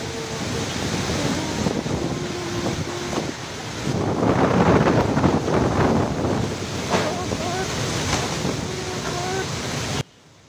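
Storm wind roars and gusts steadily in Indonesia during a rainy-season disaster, a loud broadband rush that swells midway, with voices calling out faintly underneath before it cuts off abruptly.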